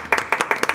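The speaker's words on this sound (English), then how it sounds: "Golf clap for you, sir." A short, sparse golf clap from a few hands: around six or seven light, crisp claps in an uneven rhythm, fairly close and quiet, with no talking over it.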